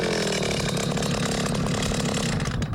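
Gas-powered ice auger boring through lake ice on a fishing outing, a loud, continuous buzzing engine roar held close and steady throughout, dropping slightly right at the end.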